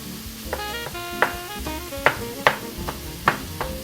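Ground beef sizzles in a pan while cooking for Hamburger Helper, a steady crackling fry broken by sharp scraping stirs of a utensil at a regular pace, loud and close.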